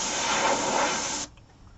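Spray paint hisses out of a can as purple paint goes over a stencil, one steady, close, loud burst lasting over a second before it cuts off to quiet room noise.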